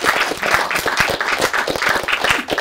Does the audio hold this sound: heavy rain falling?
no